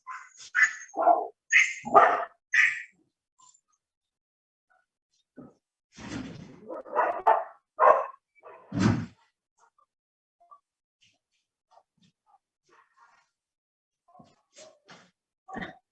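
A dog barks in several loud, close bursts, followed by a sliding door opening and brief faint shuffling and clicks as the dog is let inside.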